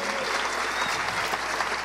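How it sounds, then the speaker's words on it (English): Audience at an international film award show applauds steadily, a dense wash of many hands clapping at even volume throughout, with no voices standing out. "let's give them a big round of applause"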